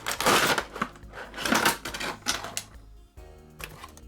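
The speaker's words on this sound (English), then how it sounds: "use a razor blade and cut along this edge and go all the way around" A razor blade slices along the edge of a cardboard action-figure box, giving rough scratchy cutting strokes in bursts with brief pauses, close up and without speech.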